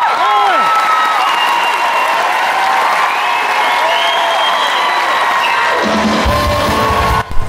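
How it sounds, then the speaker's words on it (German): A large theatre audience at the London premiere of MJ The Musical breaks into sustained, loud applause and cheering, with whoops and whistles rising over dense clapping throughout before it thins at the very end. "Mit umjubeltem Applaus ging auch dieser Abend zu Ende."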